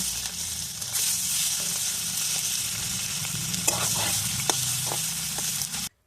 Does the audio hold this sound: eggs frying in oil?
yes